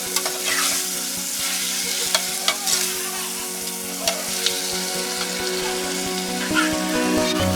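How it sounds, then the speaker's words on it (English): Chopped carrot sizzles and fries with onions, tomatoes and pepper in a pan for yam and egg sauce, a steady crackle broken by scraping stirs and occasional sharper spatters. "I will now add my chopped carrot inside, as you can see, so that it will now fry with the onions, tomatoes,"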